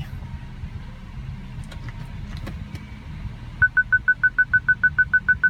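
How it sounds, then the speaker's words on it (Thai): A BMW E64 parking sensor sounds a rapid, evenly spaced series of about a dozen sharp high beeps, loud and close inside the car after a stretch of quiet cabin hum and small clicks. "เสียง parking sensor ก็ยังทำงานอยู่นะครับ"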